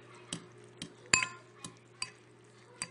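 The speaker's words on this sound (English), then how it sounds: "Mix it, make sure the noodle has it." Spicy noodles are mixed in a bowl with a utensil, giving a quiet, irregular series of light clinks and taps against the dish, one sharper ring standing out midway.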